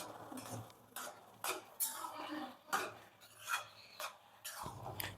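Carrot halwa with cashews, almonds and cardamom stirred in a pan, a spoon scraping and rasping against metal in repeated strokes, close and clear, with no talking.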